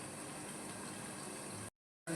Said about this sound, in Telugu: చూడండి హాట్ వాటర్ మరుగుతుంది